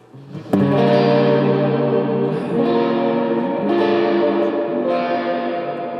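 Electric guitar chords ring out, drenched in heavy reverb and effects, each strum washing into a long shimmering sustain that slowly fades.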